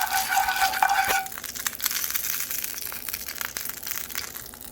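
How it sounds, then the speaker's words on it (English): Lemon pepper seasoning stirred around in olive oil in a pan, a close, fairly loud crackling sizzle with scraping spoon strokes, after a brief tonal ring at the start. "And I'm gonna stir around, guys, a little bit"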